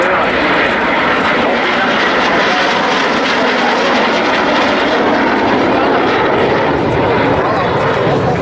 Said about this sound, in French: Le Messerschmitt 262, l'avion le plus important.